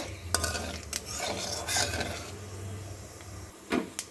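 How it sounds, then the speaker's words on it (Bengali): Black cumin seeds temper in hot oil in a wok while a spoon stirs and scrapes against the metal in a few quiet, close strokes over a soft sizzle. "তেলটা গরম হওয়ার পর হাফ চামচ মতো কালো জিরে ফোড়নে দিয়ে দিলাম একটু নাড়াচাড়া করে নেব"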